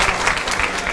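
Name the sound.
audience applauding for the performer Fall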